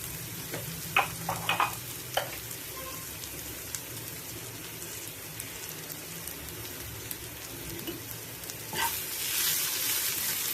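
Sliced onions sauté with a pinch of salt in a pan for a jackfruit seed dish, giving a continuous close sizzle. Brief stirring scrapes come early on, and the hiss swells louder near the end, with no voices.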